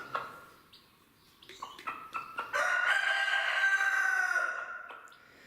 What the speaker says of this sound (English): And as for this absolutely ridiculous chicken